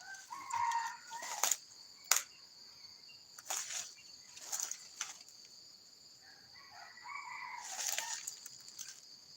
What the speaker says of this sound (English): There's chicken here, scratching on top of this pot.